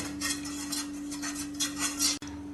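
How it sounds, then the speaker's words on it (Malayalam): Milk stirred in a pot on the stove, a run of soft repeated scraping and clinking strokes of a spoon against the metal, quiet and close over a faint steady hum, ending with a brief knock. "ഇനി തീ കത്തിച്ച് ഇത് ഇളക്കി തിളപ്പിക്കാം."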